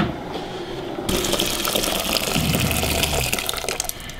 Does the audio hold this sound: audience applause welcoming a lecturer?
no